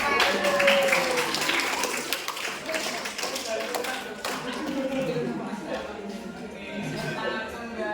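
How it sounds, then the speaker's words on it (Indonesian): A university class in mathematics teaching practice clapping together, a busy patter of many hands lasting several seconds with voices talking over it. "Oke, kita beri tepuk tangan."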